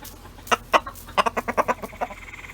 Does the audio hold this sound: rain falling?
no